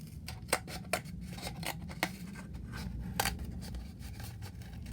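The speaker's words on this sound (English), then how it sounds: "I'm going to cut out the window shape." Scissors snip through paper or card while cutting out a window shape for a homemade Rapunzel's tower craft, giving a series of close, crisp irregular clips with short pauses between them and no voices.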